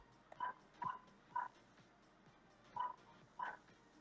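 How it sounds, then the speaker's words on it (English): A pet dog barks in short separate bursts, about five barks with pauses between them, fairly faint and at some distance, over a quiet low hum with no talking. "you'll be able to hear my dog just bark like mad"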